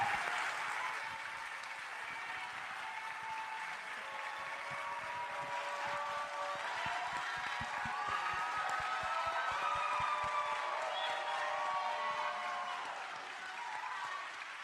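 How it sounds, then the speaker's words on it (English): Sustained applause from a large audience greeting Congresswoman Jasmine Crockett, a dense steady roar of many hands that holds throughout with a few faint voices and cheers mixed in. "Can y'all help me give her a round of applause, please?"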